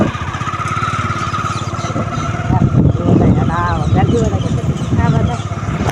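A motorcycle rides along a road, its steady engine drone loud and continuous throughout, with people talking over it.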